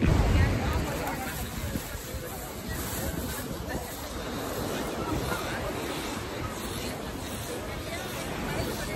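Ocean waves wash onto a beach in a steady, close surf roar, mixed with wind noise on the microphone and distant crowd chatter, with people talking nearby.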